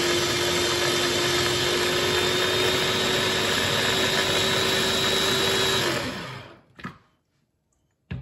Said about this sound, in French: je vais mixer